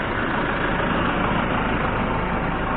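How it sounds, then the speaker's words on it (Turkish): Steady low rumble of a tractor engine idling nearby, constant and unbroken, with no voices. "Size bu traktörü de göstereyim hemen"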